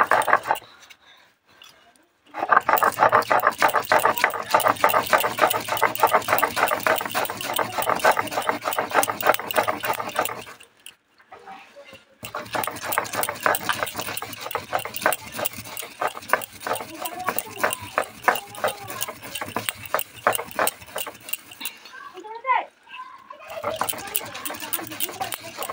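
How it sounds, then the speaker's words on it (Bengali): Mustard seeds ground into paste, likely on a grinding stone, a steady rhythmic scraping and rubbing that runs for long stretches with brief pauses, loud and close, with a dog whimpering and barking and birds faintly in the background. "এবার সরিষা বাটা।"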